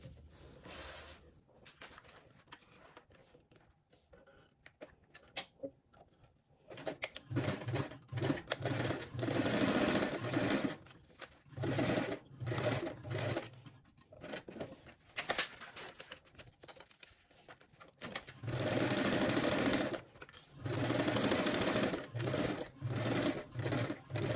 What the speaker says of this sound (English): we're going to go ahead and sew the two sides and along the top with a 5/8 seam allowance